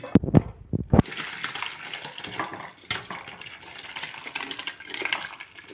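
Hot mustard seed tempering is poured into a pot of sambar with a sharp burst of sizzling and crackling, followed by a steady, loud hiss of frying oil that continues throughout with faint clinks.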